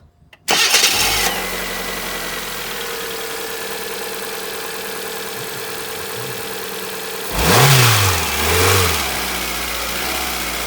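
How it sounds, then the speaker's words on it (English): A Kia Picanto's engine cranks and catches after an auxiliary belt change, then settles into a steady idle, with a brief rev partway through before dropping back to idle. It is close and fairly loud, with no talking. "All I need to do now is quickly fire the car up, make sure that there's no slippage"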